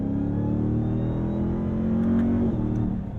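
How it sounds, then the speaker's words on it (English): A 2022 RAM TRX pickup's engine drones loud and steady from inside the cab, with a thin whine sweeping as it downshifts near the end. "Oh, the downshift with that whine."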